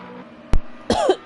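Someone commentating a Formula Renault sim race has a short coughing fit, a single sharp cough followed by a rougher throaty cough close to the microphone, with faint background hum.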